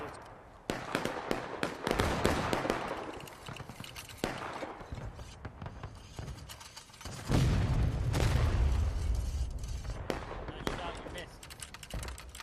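Musket volley fire in War of Rights during a Gettysburg battle event: sharp gunshots crackle and pop irregularly, with a heavy booming volley in the middle and voices faintly shouting commands beneath.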